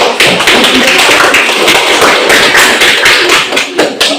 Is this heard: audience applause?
yes